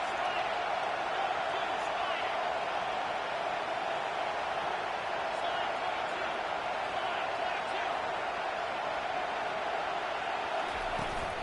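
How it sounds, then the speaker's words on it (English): Stadium crowd at a college football game between Texas and Kentucky, a constant loud roar of many voices with no breaks throughout, heard close and dense. "This crowd bringing the energy and noise early."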